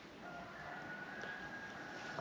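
A rooster crows at a distance, faint and drawn out over a quiet outdoor background hiss.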